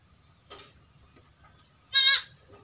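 Goats at a kidding pen bleat twice, a short soft call followed by a louder, nearer bleat, over a quiet low background hum.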